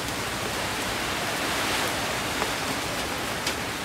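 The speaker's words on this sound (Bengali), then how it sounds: "কখনো মুষলধারার, কখনো ঝিরঝিরে বৃষ্টি ঝরছে" Cyclone Remal rain falls over Dhaka in a dense, unbroken hiss, loud and continuous with a couple of faint drip accents.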